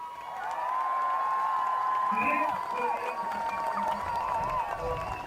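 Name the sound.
crowd applauding the sailor at the finish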